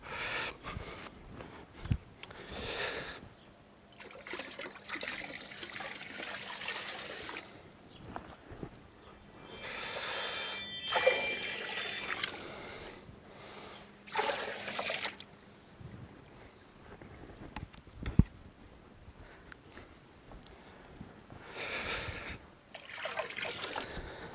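Fluke treatment poured into a koi pond: quiet intermittent trickling and splashing of liquid, with soft bursts of water noise and a steady low hum behind.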